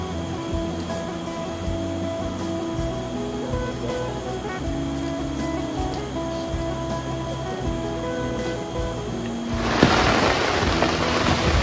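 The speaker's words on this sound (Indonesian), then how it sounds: "Hujan lagi guys. Hujan." Rain falls steadily during a long-boat trip against a fast river current, a continuous hiss that stays loud throughout and grows heavier and brighter near the end, with no talk.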